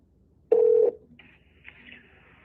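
An outgoing phone call to an agent goes unanswered, with a single steady ringback tone lasting about half a second, then a faint higher whine trailing after in a quiet room.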